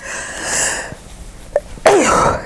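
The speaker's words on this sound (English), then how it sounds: "I'm gonna sneeze, that's for sure." A sharp single sneeze bursts out after a drawn-out, wavering inhale, close and loud, with a brief breathy tail.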